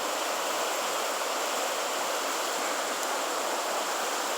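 A swollen creek runs high through a river valley, a loud, steady rushing roar of water with no pauses, close by and alone.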